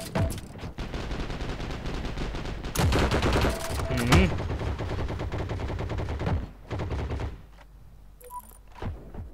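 Gunfire in the online shooter Heroes & Generals, playing as Soviet forces: rapid bursts of automatic fire and sharp single shots crackle loudly and repeatedly, mixed with game sounds and a player talking excitedly over the action.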